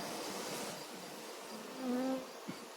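A steady, faint buzzing of many honeybees at a hive fills the air, swelling briefly into a louder hum near the end.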